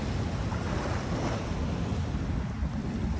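Waves crash and surge steadily against the shore along Manila Bay's dolomite beach, a loud continuous wash of surf with wind buffeting the microphone and no talk.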